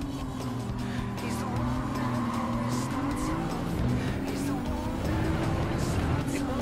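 Tuned AMG race car lapping the Sainte-Croix B layout in Gran Turismo 7, engine note rising and falling through gear changes while tires squeal and skid through corners, steady and close throughout.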